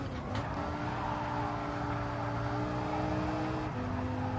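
In a racing video game, a V8 engine from a Lamborghini Gallardo-type car drones steadily at moderate level. Pitch shifts slightly as the car drives, with no talk.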